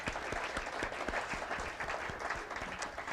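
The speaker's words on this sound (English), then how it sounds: "Yes, please applaud if you want." An audience claps at a Unity New Thought memorial service celebrating a life, the individual claps distinct and close, a moderate round at a lively, even pace.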